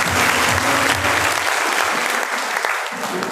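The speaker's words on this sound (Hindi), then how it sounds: "एक बार तालियां बजा दो कुर्सी के लिए" Dense audience clapping rises in a seminar hall at an RCM Business meeting, a full steady burst of applause that thins slightly toward the end.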